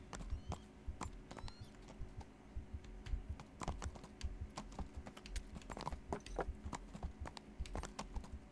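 Horse hooves clip-clopping in the video game Kingdom Come: Deliverance, a steady, fairly quiet patter of hoofbeats over a low continuous background rumble, with no talking.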